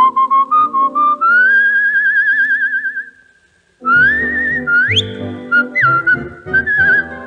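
Bright melodic whistling from an old Supraphon gramophone record of a French waltz, long sustained warbling phrases with short staccato notes, a brief pause, then more whistled runs over light accompaniment, loud and close.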